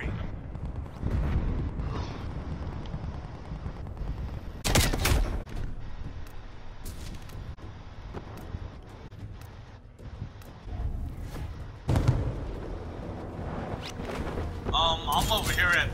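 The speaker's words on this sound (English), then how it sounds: "Call incoming artillery." Incoming artillery strike in a video game, with bursts of distant gunfire and explosive booms around a couple of sharp loud blasts, under frequent voices of players talking.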